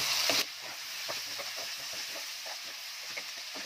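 Sliced onions with salt sizzle in hot oil in a pan while being stirred, a steady close frying hiss broken by soft scraping stir strokes, after a brief louder splash of sizzle at the start.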